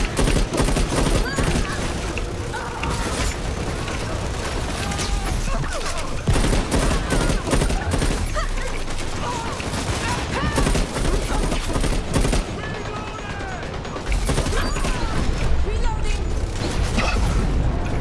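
Dense, near-constant automatic gunfire from the shooter game Dirty Bomb, with rapid bursts, mechanical reload clicks and thuds, while players talk throughout.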